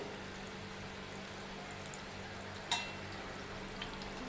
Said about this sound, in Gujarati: જેટલા કડાઈમાં આવે એટલા આપણે ભજીયા મૂકી દઈશું